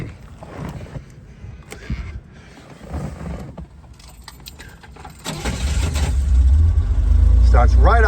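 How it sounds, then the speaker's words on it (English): A 1965 Chevrolet Corvair Monza convertible engine cranks and catches after a stretch of talking, then settles into a loud, steady idle that grows to fill the end of the clip. "Starts right up and idles nicely."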